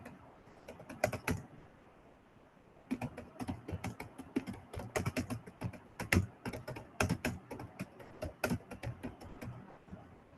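Typing on a computer keyboard, bursts of rapid close key clicks with a short pause near the start, then steady irregular tapping, quiet and alone.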